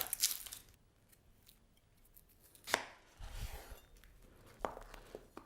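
An onion is chopped into large chunks on a cutting board for marinated chicken skewers: a few sharp knife strikes spaced apart, close and crisp, with quiet pauses between them and no talk.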